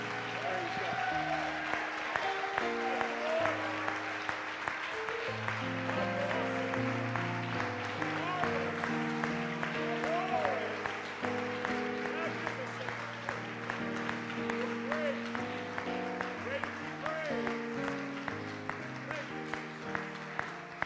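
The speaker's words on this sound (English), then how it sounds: "join me in giving Jesus Christ the loudest hand clap you've given anybody all week long" A church congregation claps loudly and continuously for about twenty seconds, sustained applause from a crowd with music playing underneath.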